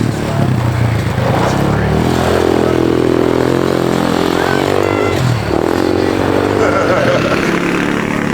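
A dirt bike engine runs steadily nearby, a loud continuous motor drone with slight shifts in pitch and some clattering, with no voice over it.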